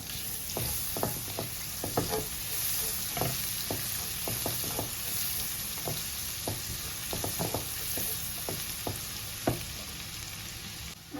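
Fresh garlic sizzles in hot butter and oil, a steady close frying hiss with scattered light clicks and scrapes from stirring, and no voices.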